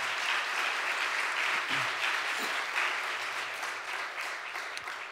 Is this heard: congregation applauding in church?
yes